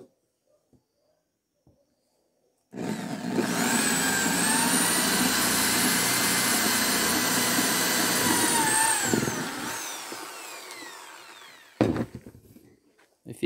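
A power drill bores a hole while a handle is fitted to a knife or cleaver, running as a steady, loud, high whine for about seven seconds before spinning down, followed by a few clunks.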